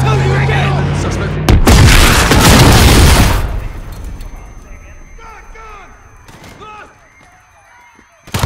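A detonation in Call of Duty Modern Warfare's London attack bursts out as a loud, broad roaring blast lasting a couple of seconds, then trails off into scattered distant pops and shouting voices.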